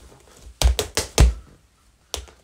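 Several sharp tap shoe strikes on a hard floor, a quick cluster of four followed by a pause and one more tap, a tap dance jump, shuffle and drop step.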